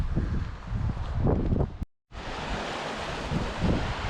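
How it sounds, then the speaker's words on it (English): Swollen River Isla in a wild Scottish glen rushing fast after wet weather, a loud, dense roar with gusty wind buffeting the microphone, briefly cut to silence midway before resuming. "The River Isla just flowing through quite ferociously today because of the wet weather."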